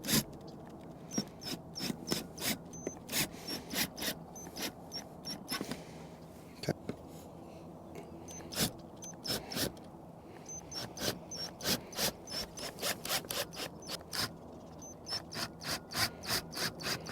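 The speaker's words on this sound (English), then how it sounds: "we're gonna finish it with our wrench" A hand wrench ratchets lag bolts tight after they were partly driven with an impact, during a Starlink in-motion mount install, giving rapid close clicking bursts in uneven runs with short gaps, fairly quiet and with no talk.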